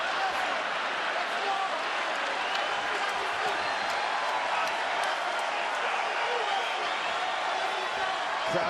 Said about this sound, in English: Crowd getting behind these athletes here in the waning seconds of this one.